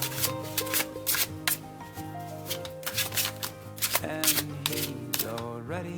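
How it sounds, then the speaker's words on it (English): Tarot cards being shuffled repeatedly, a flurry of crisp riffling and slapping sounds over a steady background tone, close and fairly loud. "And the last shuffle for this deck."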